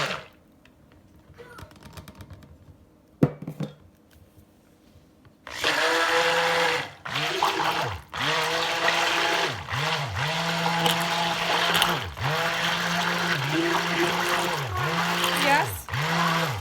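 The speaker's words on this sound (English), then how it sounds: "I'm going to put my stick blender in here and start stirring this." A stick blender whirs through a tallow balm mixed with magnesium oil, starting after quiet handling noises and then running loud and close in steady bursts with brief dips and restarts.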